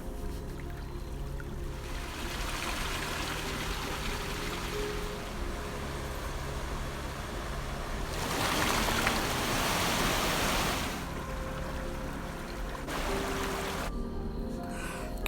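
A babbling brook at Lake Powhatan campground in North Carolina rushes continuously, a steady broadband wash of flowing water that swells louder for a few seconds midway and then eases.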